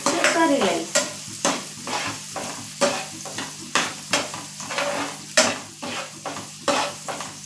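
Green chillies stirred in a pan while making upma, a spoon scraping and knocking against the pan in a steady rhythm over a soft sizzle, close and clear with no talking.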